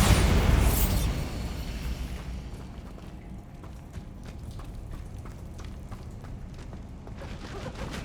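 A Bombarda explosion spell from Hogwarts Legacy goes off as one loud booming blast, then fades into a long low rumbling tail with scattered debris crackle.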